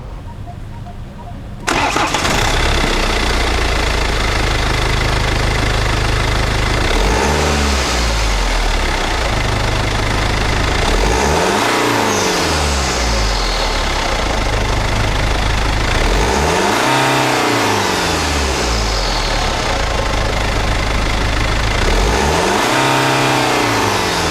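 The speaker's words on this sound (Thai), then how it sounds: "มาฟังเสียงเครื่องยนต์กัน" A BMW 320d F30 diesel engine with an 8-speed automatic turns over and settles into a loud idle, then revs up and down repeatedly in several strong bursts, close by.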